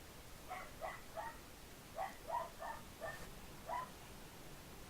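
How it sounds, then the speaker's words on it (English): Dogs bark far off in the background, about eight short, faint yips in loose irregular clusters over a quiet room hush. "Sorry for the dogs barking."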